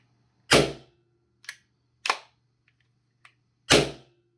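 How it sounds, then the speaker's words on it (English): A KelTec PMR-30 airsoft pistol is dry fired with an empty magazine, giving three loud sharp snapping clacks. Quieter clicks of the action are worked in between, all close up in a quiet room. "We are clear and safe to dry fire."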